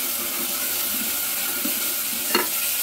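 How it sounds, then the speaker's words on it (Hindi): Ginger garlic paste sizzles in hot oil as a spoon scrapes and stirs the pressure cooker in slow strokes, ending with one sharper clank. "अच्छी तरह से हम अदरक लहसुन को भून देंगे"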